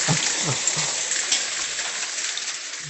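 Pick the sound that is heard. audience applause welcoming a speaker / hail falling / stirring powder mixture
hail falling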